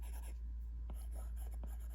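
A pencil shades on paper in a quiet, close, soft scratching, with a few faint strokes standing out against low background hum.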